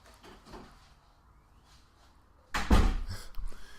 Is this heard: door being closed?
yes